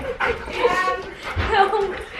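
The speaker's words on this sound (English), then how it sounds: "Big dog. He's chasing the cat away." A dog whimpers and yips in short excited bursts while a person talks nearby.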